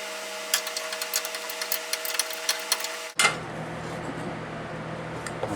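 A nut and lock washer are tightened onto a dune buggy shock bolt, heard as a run of quick, light metallic clicks from a ratcheting extension, close and steady for about three seconds before a clunk and quieter shop ambience.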